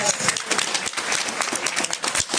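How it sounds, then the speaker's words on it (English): A crowd at a business expo and Juneteenth celebration panel gives sustained, thick applause, many hands clapping at once at steady volume with faint voices mixed in. "Give them another round of applause."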